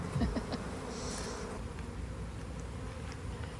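Honey bees from a swarm that stayed too long in a bucket and was then moved buzz steadily and close, a dense continuous drone with a few louder thumps near the start.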